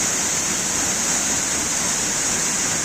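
A waterfall roars as a constant, dense hiss of falling water, loud and close with no pauses and no voices.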